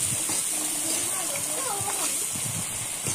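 Potatoes being stirred into a pan with meat, sizzling steadily: a dense, constant frying hiss throughout, with a voice talking over it.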